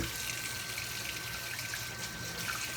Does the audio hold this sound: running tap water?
yes